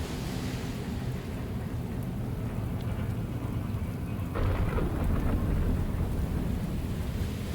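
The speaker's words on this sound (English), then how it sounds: "We're getting cold because of the rain" Steady rain with rolling thunder in the video game Shadows of Doubt, a dense continuous downpour throughout, with a deeper thunder rumble swelling midway and lingering to the end; no voices.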